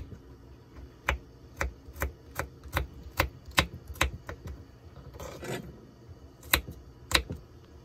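A knife chops garlic cloves finely on a board for Moroccan lentil soup, giving a series of crisp, close, unevenly spaced taps with a short scraping sound midway.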